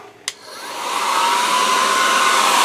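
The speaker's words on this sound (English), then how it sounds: "I'm just going to use a hairdryer just to dry them off a bit" A hair dryer clicks on and ramps up into a steady, loud whooshing blow with a high whine, running continuously up close, drying paint on a model after stenciling tiger stripes.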